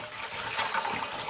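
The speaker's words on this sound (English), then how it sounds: "So, the hot tap's going on." Hot water runs from a kitchen tap onto rice being washed, a steady close hiss and splash of flowing water with no one speaking.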